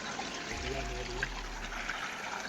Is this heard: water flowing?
yes